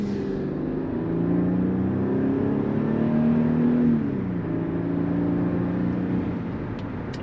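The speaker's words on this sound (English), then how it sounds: "I think the right V6s sound good, and I think this M112 might be the right V6." Mercedes M112 V6 in a Y2K-era car with a smooth automatic accelerating, a steady close engine drone rising in pitch, dipping at a shift near the middle, then climbing again, with no talk.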